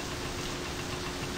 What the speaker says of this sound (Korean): 여러분들 시동 걸렸어요?